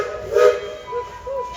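Whistle of the Thomas engine at Tweetsie Railroad as it pulls out of the station, a moderately loud steam-whistle tone that swells and fades in a few short blasts over a steady hiss.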